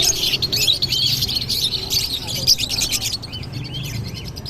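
Caged pet birds at a bird market in Obando give a dense, continuous chorus of high chirps and tweets close by, with some talk faintly underneath.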